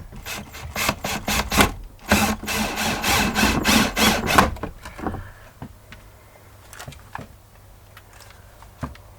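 An electric drill whirs in a series of short bursts, then a longer run, followed by quieter clicks and handling noises, while mending a homemade wooden toy.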